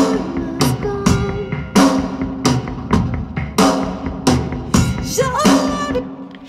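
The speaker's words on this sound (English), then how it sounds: "You can hear a very faint bing. That's the ice bell." Drum toms in a tribal-style verse pattern with a faint ice bell ringing, rhythmic punchy hits at steady intervals, loud and close with no talk.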